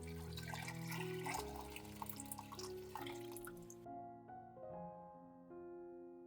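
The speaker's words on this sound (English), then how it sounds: "Pour in enough water to cover all the kernels." Water pours steadily into a pot of corn kernels, a continuous splashing rush that tapers off partway through, leaving quieter trickles under soft background music.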